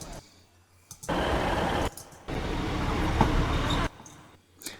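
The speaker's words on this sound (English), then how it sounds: "I have this sound of a train coming to a stop" A train in Cornwall rumbles in bursts as it slows to a stop, with brief hissing and clunks between quieter pauses.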